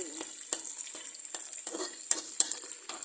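Canned fish fries crisply in a pan for a basil stir-fry, a soft constant sizzle punctuated by sharp spatula scrapes and stirs about every half second, close and alone.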